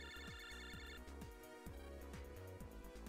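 A phone rings in the Nintendo DS video game Mega Man Battle Network 5, a repeating electronic ringtone pattern playing steadily over game music.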